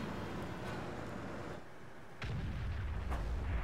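A tank gun in a World of Tanks-style battle between a Hellcat and a Matilda fires armour-piercing rounds, heavy booming blasts over a continuous rumbling engine and battle noise, with a sharp shot near the middle.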